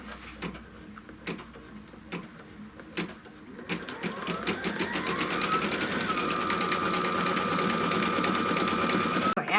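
An embroidery machine stitches a shoe outline on leather in a rapid mechanical run that starts in short bursts, then settles into continuous stitching with a rising motor whine that levels off.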